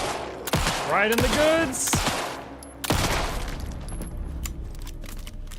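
Gunfire rings out in the horror game Alan Wake 2, several loud close shots in quick bursts with sharp echoing tails, while someone talks excitedly over them.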